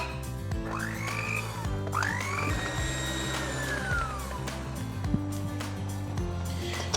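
Mascarpone cream being mixed with icing sugar: a close, steady whirring motor hum with rising and falling whine as the speed shifts, plus light scraping knocks.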